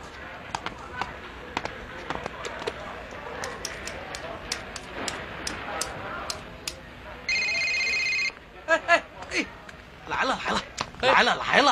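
A phone ringtone sounds for about a second as an electronic chime, set among voices, knocks and movement in a room where people are talking.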